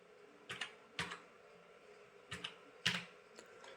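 Keystrokes on a computer keyboard while entering a captcha, about six sharp, moderately quiet clicks in two small irregular clusters over steady low background hum, with no talking.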